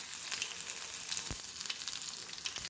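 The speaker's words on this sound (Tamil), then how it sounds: "ஒரு 4-5 பல்லு பூண்டு தட்டி சேர்த்துக்கிறேன்" Crushed garlic and curry leaves fry with mustard seeds in hot oil, making a steady close sizzle with scattered small pops and crackles and no voices.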